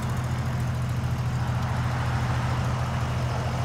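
A 1951 Frazer Vagabond sedan's engine runs at a steady low idle, a continuous rumble partly masked by background noise.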